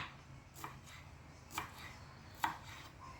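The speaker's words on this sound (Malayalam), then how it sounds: "ഇതുപോലെ നീളത്തിൽ മാങ്ങി അരിഞ്ഞെടുക്കാം" A knife cutting raw mango lengthwise into strips for a Kuttanad-style mango fish curry, three quiet separate chops about a second apart, no talk.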